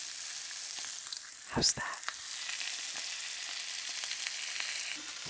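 Chicken pieces browning in a hot pan give off a loud, continuous sizzle with a brief burst of crackle midway, and a short spoken question sits over the frying.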